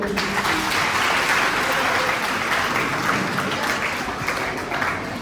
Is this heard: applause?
yes